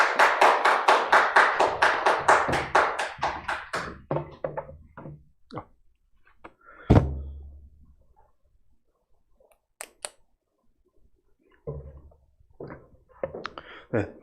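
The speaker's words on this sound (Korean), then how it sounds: "우리 열렬하게 박수로 환영해 주시는 시간 되기 바랍니다." Church congregation at a Sunday service clapping in a burst of rhythmic applause that fades after a few seconds into scattered claps, knocks and small room noises, with brief talk near the end.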